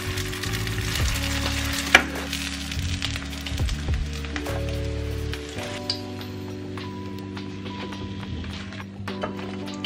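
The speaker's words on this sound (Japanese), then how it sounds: "私のおすすめのキリも揚げ焼きしていきます" Kiri cream cheese shallow-frying in oil in a pan gives a steady, close sizzle with scattered pops and crackles and a constant low hum beneath.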